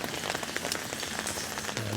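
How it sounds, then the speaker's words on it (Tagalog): Heavy rain pours onto a street in Birkirkara, Malta, a dense, steady hiss of drops on pavement that stays loud and unbroken throughout, with no voices. "Sobrang lakas ng ulan ngayong umaga mga ka-travelers."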